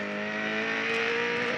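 Onboard engine of a V8 Supercar at the Canberra 400, a steady loud harmonic drone held near constant pitch as the car runs, with no talk over it.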